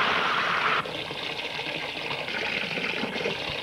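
A steady jet of running water gushes continuously, loud and close, with a bright splashing layer that drops slightly in tone after the first second and then flows on unbroken.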